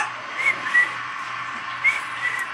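A few faint, breathy whistle attempts, short wavering tones with hissy air around them, spaced unevenly over a quiet background.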